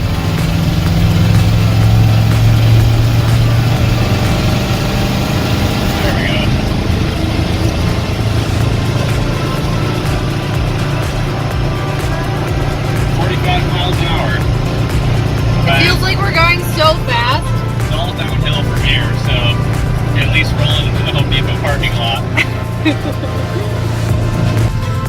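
A Ford F250 truck engine drones steadily and loudly from inside the cab as it drives slowly in fourth gear on freshly fitted tires, with low rumbling throughout and some cabin rattles and noises later on.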